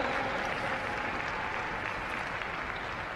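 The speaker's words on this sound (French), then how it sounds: "Ça mérite encore des applaudissements un petit peu plus vigoureux pour Marie-Ether Pellegrin" A show jumping crowd at an equestrian competition in Lancy applauds a rider, a continuous, even roar of clapping from many spectators at moderate distance.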